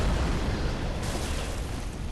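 A gunshot-like boom in the video game Bloodborne, fought against Ebrietas: loud, dense broadband blasts filling the short stretch with continuous rumbling, a brighter burst midway.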